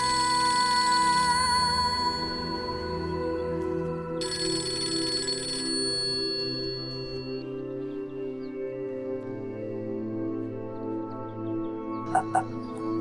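A telephone rings with a sustained electronic tone at the start and mid-clip, then gives way to quieter background sounds with a few short clicks near the end.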